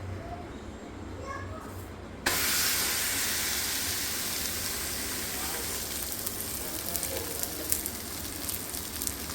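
Coriander paratha drops onto an oiled hot griddle and bursts into a loud, steady sizzle that continues with small crackles, after a quieter kitchen moment.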